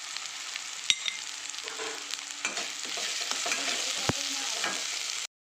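Ginger garlic paste with turmeric and salt frying in a pan, a steady close sizzle with scraping stirs and a few sharp clicks of the utensil, then a sudden cut to silence near the end.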